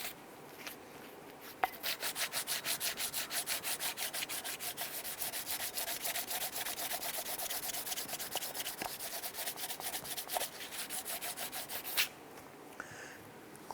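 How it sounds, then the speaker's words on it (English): A long piece of wood rubs back and forth across a metal exhaust manifold surface on a 1999-2004 Jeep Grand Cherokee, a steady rapid rasping scrape in quick regular strokes that stops abruptly, followed by a few faint clicks. "we're using a long enough piece of wood that it will span the whole hole here and clean this up"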